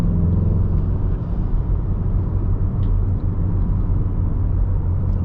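A 2019 Volkswagen Golf R hot hatch with a six-speed manual hums from inside the cabin as a steady, loud low engine drone with road rumble, with no clearly separate rev climbs or gear changes.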